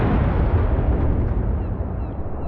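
Battleship main guns in World of Warships firing: a heavy, sustained booming roar that fills the space and slowly tails off, loud and unbroken, with no voices.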